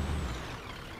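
A Scania truck's air brake in a truck driving simulator game gives a short, loud broadband hiss of released air at the start, then eases into a steadier, quieter rush of air and engine noise, with no talking.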